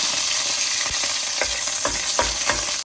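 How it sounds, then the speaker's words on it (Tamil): Cinnamon, cardamom, cloves and bay leaves sizzle steadily in hot vegetable oil, a close, continuous frying hiss with a few soft stirring knocks and no voices. "இதுக்கு கொஞ்சம் வெஜிடபிள் ஆயில் சேர்க்கிறேன் நான் இதுக்குள்ள பட்டை ஏலக்காய் கராம்பு சேர்க்கிறேன்"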